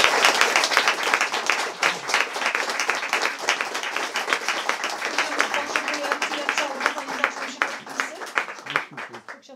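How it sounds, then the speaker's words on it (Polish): Audience clapping steadily and fairly loud after a talk by priest Adam Boniecki, dense applause continuing for about ten seconds and thinning slightly toward the end. "Ogromne brawa."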